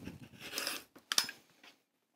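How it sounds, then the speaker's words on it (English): A blade cutting through a fabric quilt block, a soft, close rasping stroke followed by a brief sharper snip, quiet and alone before fading to silence. "I'm just going to cut out a chunk of the block here"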